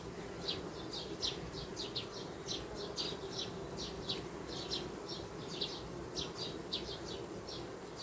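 Honeybees hum steadily across a hive frame during a colony check for an accepted caged queen, a dense continuous drone with brief higher chirps scattered over it, close and moderately loud.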